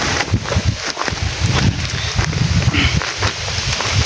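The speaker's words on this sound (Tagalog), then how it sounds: "medyo mahangin ngayon" Steady wind gusting outdoors around a bamboo kubo hut in a natural setting, a broad continuous rush with fluctuating loudness and low buffeting.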